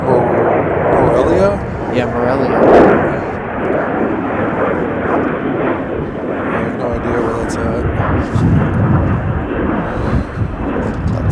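A Volaris passenger airplane from Morelia touches down at Chicago O'Hare, its deep engine roar and rumble running loud and continuous while people talk over it.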